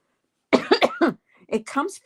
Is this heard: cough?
yes